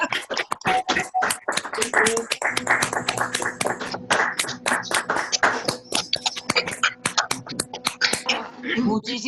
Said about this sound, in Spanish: Nada, oír el aplauso.